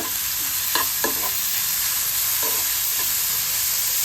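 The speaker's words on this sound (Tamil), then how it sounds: "இந்த எண்ணெயிலேயே நல்லா முள்ளங்கி வறுக்கணும்" Radish pieces fry in hot oil with a constant bright sizzle. A few light clicks and scrapes of a stirring spoon come through at close range, with no voices.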